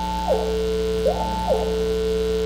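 Synthesized tone from a computer music patch, a steady pitched line stepping up and down between two levels in a repeating arpeggio-like pattern over a constant harmonic drone, moderately loud and alone.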